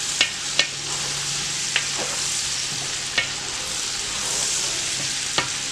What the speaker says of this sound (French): on mélange bien nos oignons qu'on va laisser revenir un peu dans les saucisses